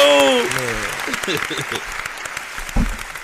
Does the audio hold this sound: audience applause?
yes